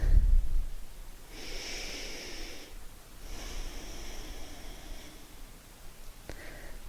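Slow, deep breathing during a yoga flow: two long, audible breaths drawn in and out through the nose, close and fairly soft, in a quiet room with no talk.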